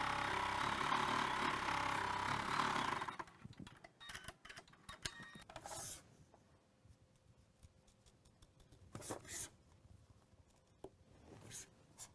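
An embroidery machine stitches a tack-down line on a quilting project, with a steady busy mechanical whir for the first few seconds, then giving way to quieter scattered ticks and light clicks.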